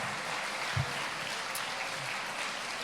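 A church congregation claps in a steady, even patter of applause, heard from amid the room at a moderate, slightly distant level.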